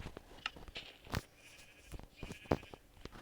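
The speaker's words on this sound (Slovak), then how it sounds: "Máte ovečky." Minecraft sheep bleat in short bursts around one and two and a half seconds, mixed with game clicks and movement noise, no talking.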